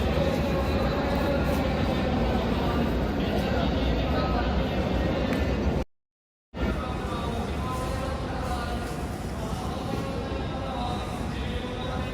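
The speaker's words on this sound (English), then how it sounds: "There goes that train." A Shinkansen train rumbles loudly past at close range at Echigo-Yuzawa Station, Japan, a continuous roar with rattling, briefly cut by a short silence before the noise resumes.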